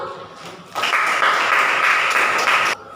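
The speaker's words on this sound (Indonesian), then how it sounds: "Ayo, tepuk tangan dulu." Students in a classroom clap together on cue for about two seconds, a bright steady burst of applause that starts abruptly after a quiet pause and cuts off sharply.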